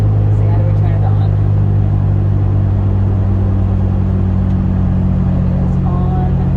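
A 2005 VW Jetta TDI diesel cruises along a road, its deep, steady engine drone rumbling loudly and continuously from inside the cabin.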